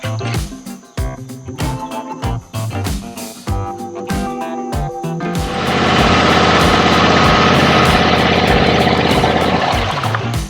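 A John Deere zero turn mower engine runs steadily at low RPM, a loud continuous drone after a few seconds of clattering, uneven sounds; no voices.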